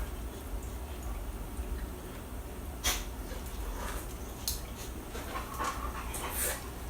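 A dog pants steadily close by, a soft continuous breathy rhythm with a few faint higher sniffs or whimpers over low room noise.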